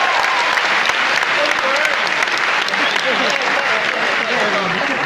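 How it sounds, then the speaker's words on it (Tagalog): Applause from a theatre audience at a choir concert by Koro Ilustrado at the Philam Life Theatre, a dense, steady wash of many hands clapping at close range, with faint cheers and voices mixed in throughout. "pumalakpak tayo lahat"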